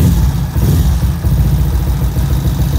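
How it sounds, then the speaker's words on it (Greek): A Kawasaki ZX130 motorcycle engine running after a rebuild, its deep exhaust note a loud, close, steady throbbing idle with slight unevenness, no voices. "Η εξάτμιση ακούγεται τέλεια, παιδιά. Βαθύς ήχος."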